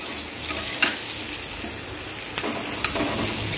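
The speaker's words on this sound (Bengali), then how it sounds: "কুমড়োর তরকারি করছি একটা।" Pumpkin curry with prawns and chillies frying in oil as it is stirred, a steady close sizzle broken by a few sharp scrapes of the spoon against the pan, with no voices.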